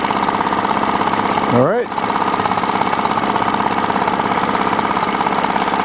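A Yamaha four-stroke 4 hp outboard motor runs at a steady idle, its rapid, even chugging close and constant throughout, with a short spoken remark over it partway through.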